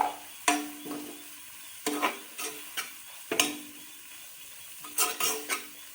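Finely grated carrots are stir-fried for string hopper koththu, with a low sizzle under repeated sharp clanks and scrapes of a utensil against the pan, coming in irregular bursts.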